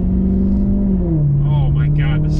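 A sports car exhaust in the Gran Turismo Sport video game revs loud and steady, a low droning engine tone that dips in pitch. Voices are faint underneath.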